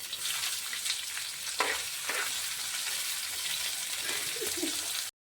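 Tomatoes sizzle and hiss steadily as they fry in a hot pan, with a few brief scraping stirs breaking through the continuous crackle; no one speaks.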